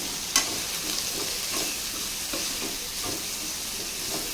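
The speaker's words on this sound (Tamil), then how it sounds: "இப்போது நாம் கட் பண்ணி வச்சுருக்க கேபேஜை வந்து சேர்த்துக்கலாம் ஹை ஃப்ளேமில் வச்சு இதையும் ஒரு நிமிஷம் நல்லா வதக்கி விட்டுக்கலாம்" Cabbage stir-frying on high flame for egg fried rice, a steady loud sizzle with regular soft scraping strokes of a spatula roughly every half second, close up, one sharp clink at the start.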